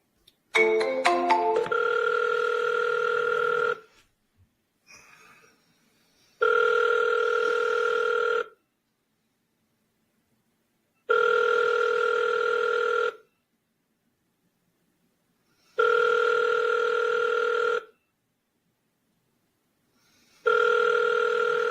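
A telephone call rings out in repeated two-second electronic ring bursts separated by silent gaps, preceded by a quick run of dialing tones, clear and alone with no talk.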